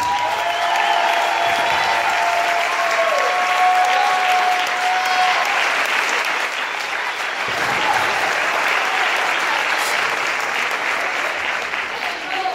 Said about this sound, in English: let's give a warm welcome to Dr. Shantina Jackson.